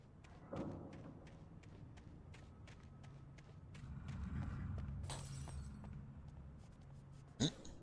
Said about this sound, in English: I heard glass break.